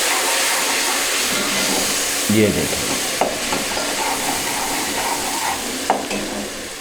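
Water hits fried onions in a hot pan and sets off a steady, loud sizzle and hiss that keeps going. A voice speaks briefly over it.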